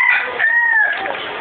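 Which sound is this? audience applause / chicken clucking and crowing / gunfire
chicken clucking and crowing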